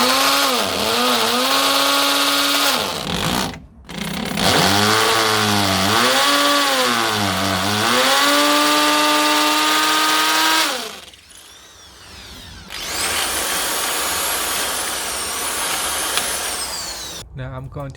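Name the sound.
drill drilling into a wall for a wall plug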